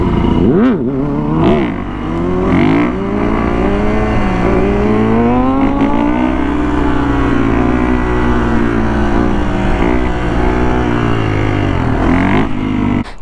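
A motorcycle engine revs hard and loud while being ridden, its pitch rising and falling in repeated surges with a constant rumbling roar close to the rider and no talking.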